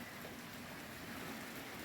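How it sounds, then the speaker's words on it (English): Cold winter rain falling steadily for hours on a January day when snow was expected, a constant dense hiss with no breaks across the whole span, fairly faint and with no voices. "It's been raining like this for hours."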